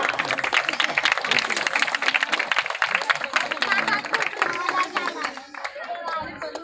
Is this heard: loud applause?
yes